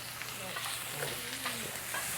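Sauce with vinegar sizzles in a pan, a close, steady frying hiss with faint stirring scrapes and a voice murmuring softly underneath.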